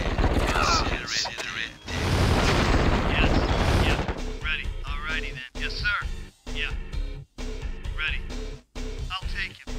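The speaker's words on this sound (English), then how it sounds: "Machine gun towers are easy." Machine gun tower fire in the real-time strategy game KKND Xtreme, a dense, steady stream of rapid shots for the first few seconds, giving way to scattered bursts and game sounds.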